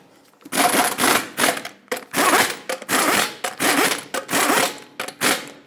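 A torque wrench tightens the wheel lug nuts on a Chrysler 300, giving close, rhythmic rasping ratchet bursts, each about half a second long, separated by brief gaps.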